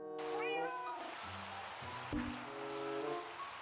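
A white cat in the Minecraft video game gives a few short, clear meows at close range over soft ambient game noise, with a light thump near the middle.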